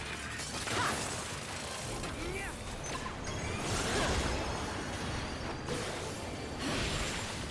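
Mechanical whirring, ratcheting and gear-like clanking from a Zot Rotor, a machine enemy in the video game Final Fantasy XIV, steady and loud over dense game music and effects.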